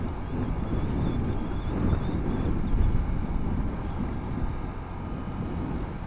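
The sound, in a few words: strong typhoon wind during a Kymco Like 125 scooter ride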